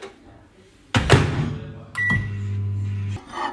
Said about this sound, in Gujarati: પછી આ સીધું જશે માઇક્રોવેવમાં.